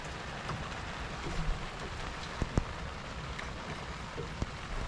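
Steady rain falling outdoors during a fishing competition at Evans Head, a dense continuous patter with a few louder drops or knocks standing out, no talking.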